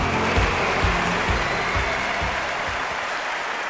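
A crowd in the Olympic stadium at the 2012 Olympics cheers and applauds before a medal ceremony: a dense, steady roar of clapping and cheering that stays loud and continuous the whole time, with no voices over it.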